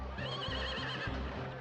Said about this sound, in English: the distinct rumble of several horses and a squeaky wagon train are heard approaching from the east